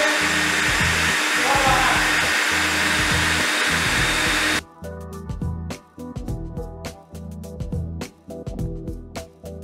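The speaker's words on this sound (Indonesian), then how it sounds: "Nyalakan vacuum dengan menekan switch power." A carpet shampooing vacuum machine runs with a steady, loud motor hum throughout, the tone shifting partway through to a rougher, pulsing drone with intermittent clatter; no talking.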